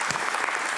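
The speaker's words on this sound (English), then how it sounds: "Can I have a big applause for these amazing speakers?" Audience applause for panel speakers at an Africa Day 2023 panel discussion, a dense, steady clapping from a crowd filling the whole short moment with no voices over it.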